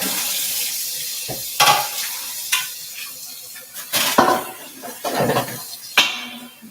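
Stir fry cooks in a stainless steel pan, with bursts of sizzling and scraping as the food is tossed, loud clattering stirs punctuating a quieter background hiss.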